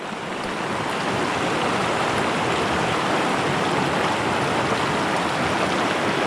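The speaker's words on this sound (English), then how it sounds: "This is a great creek." A strong, fast-flowing creek where a tenkara angler has just released a fish rushes steadily and loudly up close, a dense, continuous wash of water with no voices over it.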